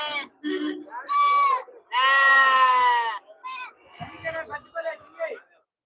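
Goats bleating at a Friday livestock market in Ettayapuram, several loud, drawn-out calls close by, one after another with short gaps, followed by shorter overlapping bleats and some crowd noise.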